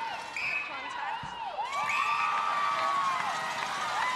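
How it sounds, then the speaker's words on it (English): Netball bench of the Magic clapping and chanting in a stadium, a steady roar of crowd noise with whoops and cheering swelling midway and staying loud to the end. "They've got a sort of a clap hand chant going on"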